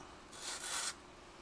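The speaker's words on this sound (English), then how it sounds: "We gotta sand it down though, clean it up a little bit." Two quick rasping strokes of sandpaper rubbing against a hard plastic part, close and fairly quiet, then stillness.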